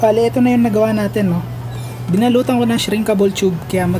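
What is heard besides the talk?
No distinct noise like a dog, phone or traffic.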